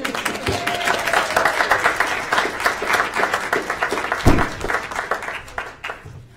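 Audience applause at a school board meeting after a charter signing, a dense, lively burst of clapping from a roomful of people that holds steady and then tapers off.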